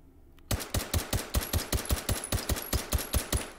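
A suppressed SIG-Sauer P226 pistol in the VR shooting game H3VR fires a rapid, evenly spaced string of about fifteen crisp, punchy shots, each with a short tail, after a brief quiet start.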